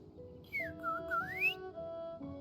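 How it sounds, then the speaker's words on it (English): A character in Genshin Impact whistles a rising and falling melodic tune in two phrases, bright and clear over quiet game music. "She even do a whistle."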